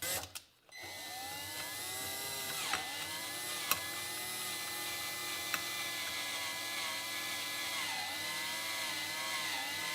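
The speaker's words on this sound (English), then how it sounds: "Drill just far enough through and into the tube so that I'm confident that I've cleared the vast majority of the pin or the dowel." A power drill bores steadily through the dowel pin of a Suzuki TS185 fork tube, a continuous whining drone with a few sharp clicks and no talk.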